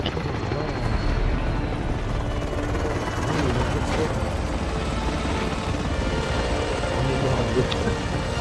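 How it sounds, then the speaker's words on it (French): Helicopter rotor noise from a Call of Duty Warzone cutscene, a steady dense roar filling the whole stretch with rain-like wash, loud and continuous with no pauses. "C'est la première fois que je me vois dans la cinématique de l'hélico,"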